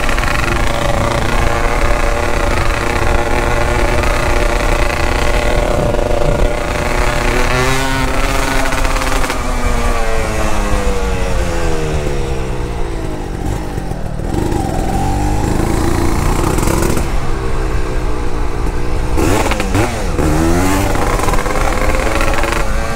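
A DT200R motorcycle engine revs loudly and repeatedly at night, its pitch sweeping up and down in throttle bursts, close by with no voices.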